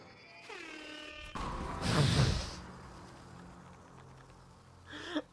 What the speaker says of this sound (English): Why the air horn?